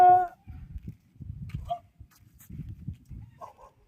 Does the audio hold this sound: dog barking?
yes